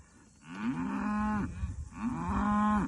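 Several cattle on a farm moo in two long, loud, drawn-out calls, one after another, close by with no talking over them.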